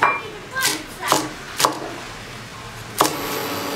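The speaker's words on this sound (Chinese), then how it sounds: "青椒也配一点，我们把它切成细的" A knife chops green chillies finely on a cutting board in a Hunan home kitchen. Several sharp, separate chops land at uneven intervals, up close, over a quiet background.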